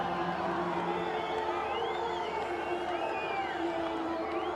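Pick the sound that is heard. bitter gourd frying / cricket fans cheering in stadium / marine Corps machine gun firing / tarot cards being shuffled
cricket fans cheering in stadium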